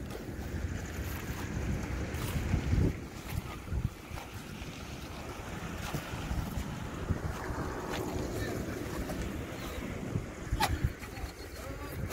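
A motorbike with a faulty chain is ridden along. Constant wind buffeting roars across the microphone and a low engine hum runs beneath it, with a few louder gusts.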